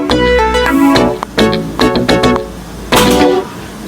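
A dense, punchy synth groove with several stacked layers, bright stabs over a thick low bass, rhythmic and loud with no voices.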